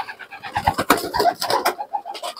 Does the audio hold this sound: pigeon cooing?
yes